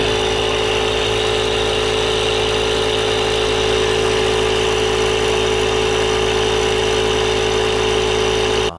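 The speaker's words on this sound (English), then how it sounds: "So at this point, the pump has pressurized the sprayer." An electric pump runs steadily, pressurizing a no-pump bug sprayer fitted with a snap-on valve; a loud, continuous motor hum with a buzzing whine holds for about nine seconds, then cuts off abruptly at the end.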